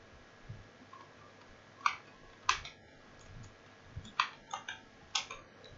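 Typing on a computer keyboard, sparse quiet key clicks in small irregular bursts over a low background hum.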